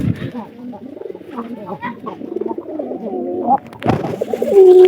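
Giribaz and local pigeons coo repeatedly up close, in soft throaty rolling phrases that keep overlapping, with a louder burst near the end.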